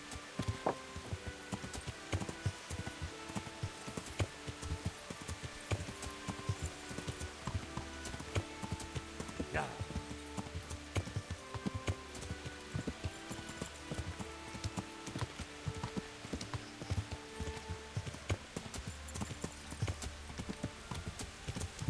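Horse hooves clip-clop steadily along in the Kingdom Come Deliverance video game, a fast, even rhythm of close, moderately loud hoof strikes continuing throughout over a soft ambient bed.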